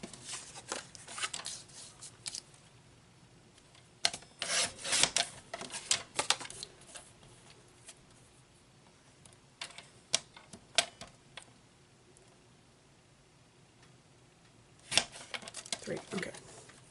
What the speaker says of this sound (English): I'm going to cut another sheet